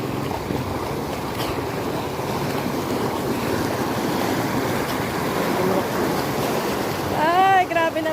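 Floodwater from an overflowing river before dawn, a constant rushing, churning roar with wind buffeting the microphone, and a person's voice cutting in briefly near the end.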